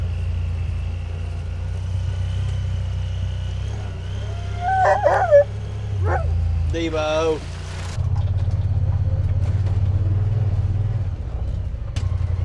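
Hunting dogs whimper and give a few short yips inside a car on the drive home from a camping trip, over a steady engine rumble and road noise.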